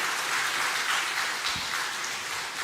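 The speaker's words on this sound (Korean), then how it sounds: "박수 한번 해주시길 바랍니다" A church congregation gives a round of applause during a Sunday sermon, dense continuous clapping from many people filling the room at fairly even volume.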